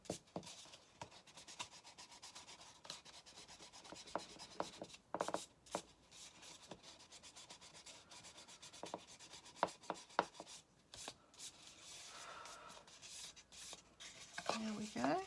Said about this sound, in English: rub out any writing that we don't want